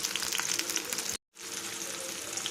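Green chillies frying in hot oil, with onion about to go in, give a dense, steady close sizzle that cuts out briefly and then resumes, with no talking.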